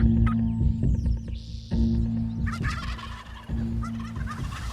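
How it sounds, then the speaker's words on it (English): A wild turkey tom gobbles out in the field in rattling bursts, two or three calls in a row, fairly close and loud over a steady low hum, with no speech. "the reluctant tom, gobbling just beyond the horizon, will likely follow her into a shooting lane"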